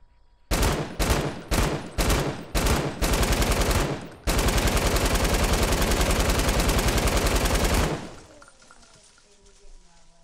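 Assault rifle gunfire in a video game. Several short, punchy bursts come first, then a long unbroken automatic stream for about four seconds, loud and close, ending abruptly.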